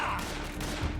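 Brief burst of gunfire in the stealth action game Metal Gear Solid 3, a few rapid shots at close range under a talking voice.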